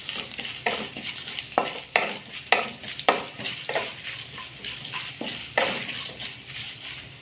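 Urad dal, chana dal and pepper roast in a pan for tangy tamarind thokku, with a soft sizzle under loud, rhythmic spatula scrapes and clatter about every half second.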